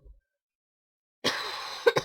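A single sharp cough after a stretch of silence, followed by a brief rough throat sound, close to the microphone.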